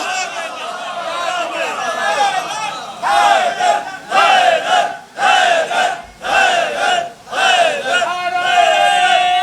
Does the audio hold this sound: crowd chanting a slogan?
yes